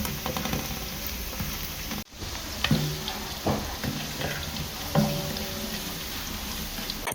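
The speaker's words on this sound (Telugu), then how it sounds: "ఈ మిర్చి వేసుకొని కూడా ఒకసారి బాగా కలుపుకోవాలి." Onions and sliced green chillies fry in a pan, giving a steady close sizzle with occasional stirring scrapes and clinks. The sizzle drops out briefly partway through, then picks up again.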